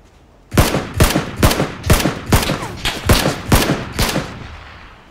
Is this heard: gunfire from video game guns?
yes